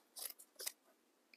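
Scissors snipping through a rectangle of fabric, two quick crisp cuts close by in near silence, with a faint tick at the end.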